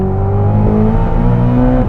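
A 1,064 hp Corvette ZR1 accelerates hard on the Circuit of the Americas, its engine a loud, steady, close roar with a rising pitch under load that holds without a break.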